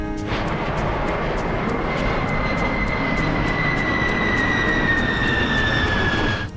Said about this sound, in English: Béchet's plan is to descend to 30 feet, as Assouline's A320 did